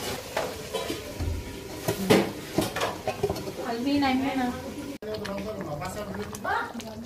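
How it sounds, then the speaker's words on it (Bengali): Home-raised rooster meat is stir-fried with green chili in a pan, with clattering utensil strokes and faint sizzling under a person talking close by. "তো মাংসটা দেওয়া হয়ে গেলে ভালো করে কষাবো"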